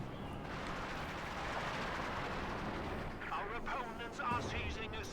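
An anti-tank gun round strikes a command tank amid Company of Heroes 2 combat, with heavy rumbling artillery-like booms over a dense, continuous battlefield roar while a voice talks underneath.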